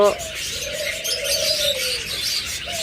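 A single long, drawn-out bird coo rises and holds over a busy backdrop of chirping and chatter from many other birds nearby.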